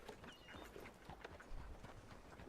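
Horse hooves clip-clopping at a steady walk in Red Dead Redemption II, a soft, faint rhythmic patter over a low background, with no talking.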